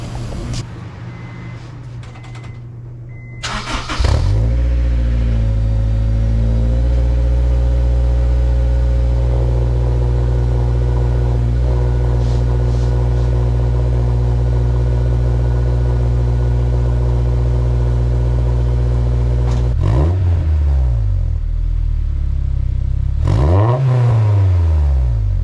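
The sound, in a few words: Honda S2000 revving with Invidia Q300 titanium-tip exhaust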